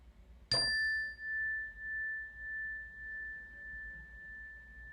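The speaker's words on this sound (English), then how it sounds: "Noticing how the sound of the bell changes moment by moment" A single meditation bell strike rings out clearly, its pure tone sustaining and slowly pulsing as it fades away in near silence.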